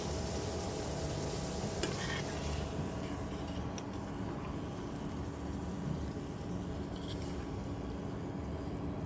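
Potatoes fry in oil in a home kitchen with a steady, soft sizzle and occasional faint stirring clicks.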